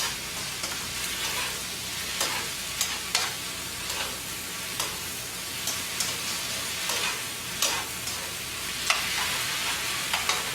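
Japchae glass noodles with vegetables and soy-sesame sauce sizzle steadily in a hot pan while being stirred, with repeated scraping and tossing clatters over the constant frying hiss.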